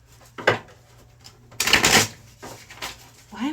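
A deck of tarot cards is riffled and bridged close up, a few sharp flurries of snapping cards, the loudest burst in the middle, with a brief voice at the end.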